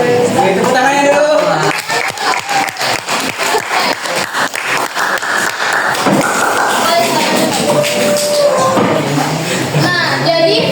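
A small group claps during an Indonesian religious podcast recording, giving a steady patter of hand claps for several seconds while voices talk and call out over it.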